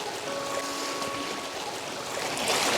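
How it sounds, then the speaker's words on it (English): Sea waves rolling in against the shore of an off-grid island, a loud, steady rushing wash of water that surges louder toward the end, with no talk. "These waves coming in."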